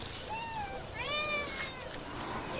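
A cat meows repeatedly in a series of drawn-out, rising and falling calls, close and fairly loud, with no talk over them; the cat is drawn to catnip.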